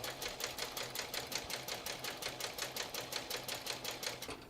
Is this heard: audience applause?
no